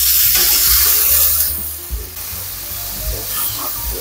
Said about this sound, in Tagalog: Pan-fry lang natin hanggang sa maluto yan.